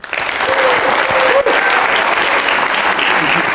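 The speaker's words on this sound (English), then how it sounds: "Please join me in a warm applause welcoming Isabella up on stage." Warm audience applause welcoming a guest onto the stage at a late-night talk show, steady and loud throughout, with a brief voice over the clapping near the start.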